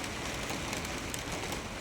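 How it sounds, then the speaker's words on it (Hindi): Rain hisses in Udaipur as a shower moves in over the lake city, a soft, even wash of falling drops that carries on steadily, faint and without talk. "ये देखिए बरसात वहाँ तक आ गई है और धीरे धीरे धीरे धीरे बरसात इस तरफ बढ़ रही है।"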